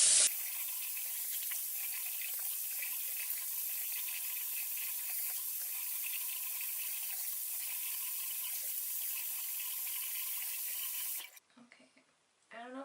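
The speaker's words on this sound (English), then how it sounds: "as I was putting the water on" Cold tap water runs at home to rinse off a 20% salicylic acid chemical peel, a steady unbroken stream lasting about eleven seconds before it cuts off, leaving faint small sounds behind.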